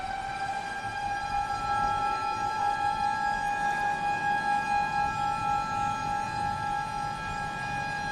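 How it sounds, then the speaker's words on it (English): A long, steady dam warning siren holds a single sustained tone for several seconds, sounding somewhat distant over a low background rumble. "You can hear the sirens again"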